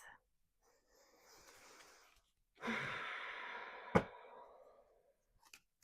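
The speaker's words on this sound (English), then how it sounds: "Aries, go ahead and take a deep breath" A single slow, deep breath: a soft airy inhale, a brief pause, then a fuller, louder exhale ending with a small click, heard close and alone.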